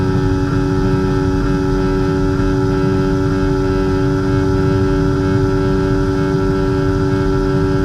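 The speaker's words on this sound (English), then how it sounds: "as we listen to his engine note, you can see that and hear that he is not hitting the rev limiter" Formula 1 car engine in EA Sports F1 during the Las Vegas Grand Prix, a loud, steady high-revving whine with strong harmonic tones that holds without pause and stays short of the rev limiter.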